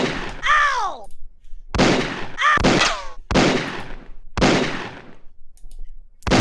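Gunshots in the arcade shooter Mystic Midway: Rest In Pieces on the Philips CD-i: about six loud, sharp electronic bursts with descending whistling tails, spaced unevenly and separated by brief silences.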